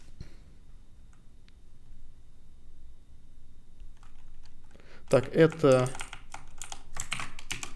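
Soft, sparse keystrokes on a computer keyboard while an Emacs configuration file is edited, followed by a brief burst of a man's speech.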